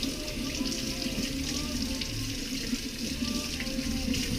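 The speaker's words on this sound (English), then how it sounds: "These are chicken thighs, so you can wash them well," Running tap water pours steadily into a sink while raw chicken thighs are rinsed beneath it, a close, continuous splashing rush with slight shifts as the meat is handled.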